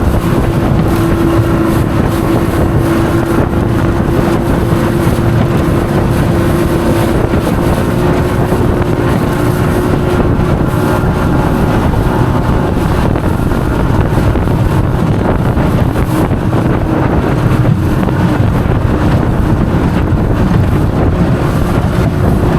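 A jon boat's outboard motor drones steadily through rough water, its engine roar blended with heavy wind buffeting and water rush, loud and continuous throughout.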